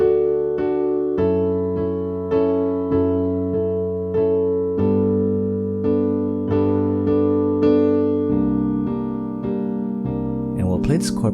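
Piano playing the chord progression from a song, a series of sustained chords struck one after another at a slow, even pace, clear and close, ending with a brief shuffle of noise.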